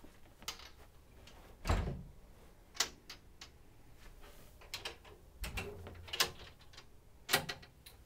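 The doors of a Stickley oak entertainment center armoire are opened, giving several faint wooden clicks, knocks and latch ticks spread irregularly across a quiet room.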